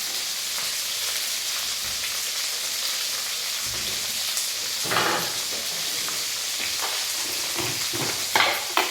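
Tomatoes and green chillies sautéing in a pan give a steady, close sizzle with occasional stirring scrapes and a few louder pops, no talking.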